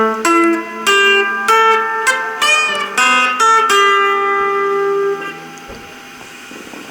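Guitar playing the closing passage of a song, a run of bright picked notes and string bends that rings out and fades, close and alone without voices.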